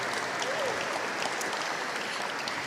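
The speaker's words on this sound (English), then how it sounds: "Let's give you all a round of applause for being here." Audience at an annual legislative reception applauds in a large room, a continuous wash of clapping at an even, moderate level with a faint voice briefly audible beneath it.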